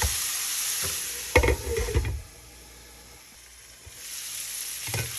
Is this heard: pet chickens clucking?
no